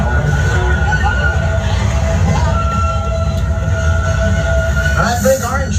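A train rumbles steadily along the rails with loud low-end roar and faint squeals, a muffled voice briefly heard near the end.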